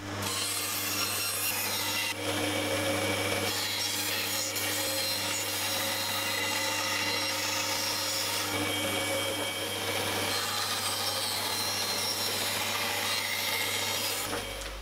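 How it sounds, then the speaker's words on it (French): A band saw cuts through wood for a modern bathtub tray, producing a continuous rasping, grinding drone over the steady hum of the motor, unbroken for about fifteen seconds with no voices. "Je vais utiliser pour cela ma scie à ruban et vous pouvez très bien utiliser une scie sauteuse."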